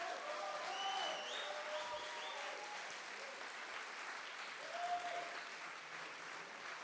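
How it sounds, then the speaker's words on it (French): An audience at a data science bootcamp demo day in Paris claps in sustained applause. The steady, dense clapping runs throughout, with faint cheers or voices rising briefly within the crowd. "Je vous propose de leur faire un tonnerre d'applaudissements,"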